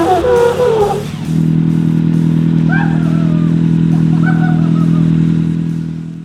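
A Kawasaki Teryx H2 side-by-side idles with a deep, steady, rumbling engine drone after a brief rev at the start, close and loud, while a voice speaks faintly over it.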